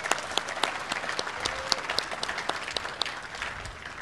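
Audience applause for staff at a ribbon cutting ceremony for an industrial technology center, a moderate, fairly distant patter of many hands with a few sharper individual claps standing out.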